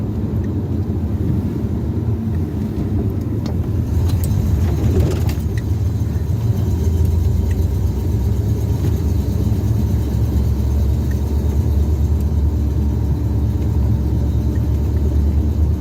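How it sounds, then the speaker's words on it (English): A truck engine idles roughly in second gear while stopped, a steady loud low rumble that fills the whole stretch, with a brief clatter near the start and no talking. "Truck does not like being in second gear when we're not moving."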